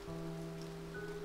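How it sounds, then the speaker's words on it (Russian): Rain in the video game A Bird Story falls as a steady, even patter through the whole moment, with sustained musical tones held beneath it and no voices. "Дождь идет"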